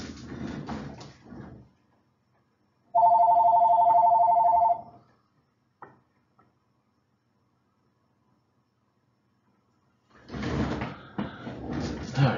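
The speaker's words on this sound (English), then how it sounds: "Turn off that ringing phone." A telephone rings in steady electronic bursts for about two seconds, loud and close, between stretches of speech in a math lesson and a long silence.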